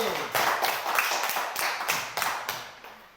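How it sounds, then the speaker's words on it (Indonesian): Children in a classroom clap together in a short burst of scattered, uneven hand claps, fairly close and moderately loud, with a few voices mixed in beneath the clapping. "Baik, tepuk tangan lagi."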